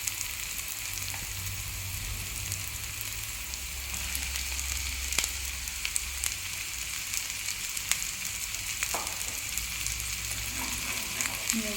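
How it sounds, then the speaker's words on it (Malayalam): Green beans sautéing in a pan for beans mezhukkupuratti, a steady close sizzle and hiss with occasional scrapes of stirring, no talking. "ഇളക്കി യോജിപ്പിച്ച് നമ്മൾ ബീൻസിൻ്റെ പച്ചമണം പോകുന്ന വരെ ഒന്ന് വഴറ്റി കൊടുക്കണം"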